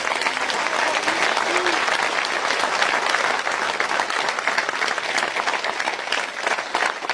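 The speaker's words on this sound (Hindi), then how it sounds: "सब जोरदार तालियां बजाएं" Loud, dense applause from a large audience at a political speech gathering, sustained and steady for the whole stretch with no break.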